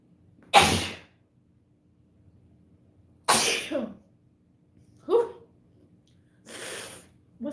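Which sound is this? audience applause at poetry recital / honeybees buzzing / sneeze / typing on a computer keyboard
sneeze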